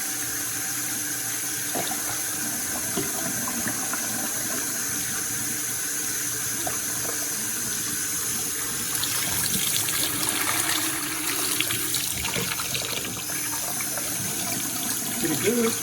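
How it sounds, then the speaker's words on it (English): Water runs continuously from a newly installed Glacier Bay Oswell bathroom faucet into a sink, a steady splashing stream with small clatters as someone works nearby. "And I turn on the water underneath."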